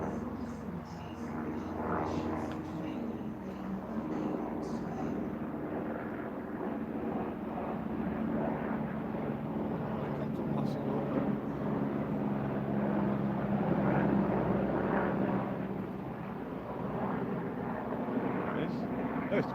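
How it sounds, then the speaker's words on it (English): A police helicopter passes overhead beside a railway line on a cloudy day, its steady rotor and engine drone sustained throughout and swelling slightly mid-clip, with voices talking over it. "There's the police helicopter."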